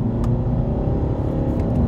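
Four-cylinder diesel engine of a 2013 Mercedes E 250 CDI Coupé accelerating, a loud, gravelly rumbling drone that stays steady and close throughout, with no talking over it.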